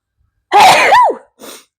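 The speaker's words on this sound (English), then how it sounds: "I am about to sneeze." One loud, close sneeze bursts out at a woodworking bench, followed a moment later by a brief, softer breathy exhale.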